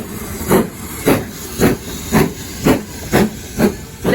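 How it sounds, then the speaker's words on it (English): British Railways 9F steam locomotive 92214 departing on a heritage railway, loud rhythmic chuffs of exhaust steam about every half second, with a constant steam hiss underneath. "But anyway, off goes the 9F"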